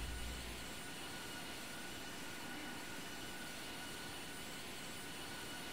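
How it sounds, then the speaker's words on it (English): Steady, loud roar of a jet airliner engine from the right wing view in the flight simulator game Infinite Flight, a continuous broadband drone with no breaks and no talking. "Can you guys hear the aircraft sounds?"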